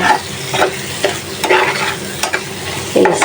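Hilsa fish stir-fried in spice masala in a pan, with a constant oily sizzle broken by repeated scraping strokes of a spatula, close and fairly loud.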